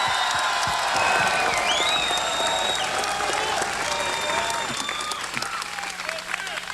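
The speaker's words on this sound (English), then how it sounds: "Let's give a round of applause to all veterans and all those who fought for freedom in South Vietnam." A crowd at a 2000 John McCain campaign speech applauds veterans, with sustained, fairly distant clapping and a few scattered whoops rolling on for several seconds before thinning slightly.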